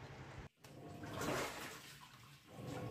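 Water gushing out of a Sharp single-tub washing machine that keeps leaking water, a continuous rushing, splashing flow close by that briefly drops out, then swells again.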